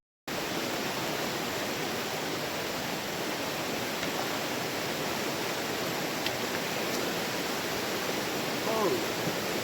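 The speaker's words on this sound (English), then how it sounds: "We have reached the river." A river in Mon District, Nagaland, rushes steadily as a dense, continuous wash of flowing water, close and loud throughout, with no talk.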